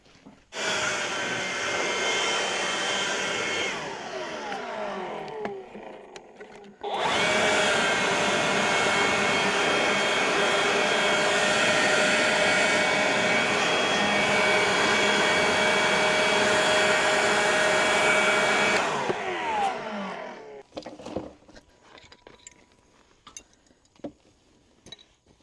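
Leaf blower blowing debris off a lawn mower outdoors, a loud close rushing roar that dips briefly, then surges back steady for a long run before cutting off, leaving faint clinks.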